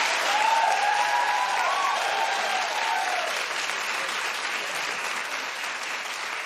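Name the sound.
studio audience applauding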